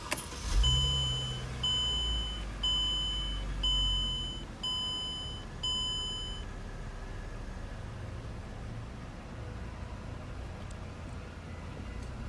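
A 2009 Mercedes-Benz E350 W211 engine cranks and starts, then settles into a steady idle while a dashboard chime beeps several times in an even rhythm.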